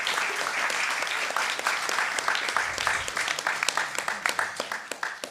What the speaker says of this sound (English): I think, children, you need to give her a round of applause as well.